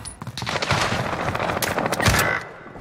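Rapid automatic gunfire from a video game combat match, loud sustained bursts of machine-gun fire with sharp individual shots cracking through, continuous for about three seconds with no speech.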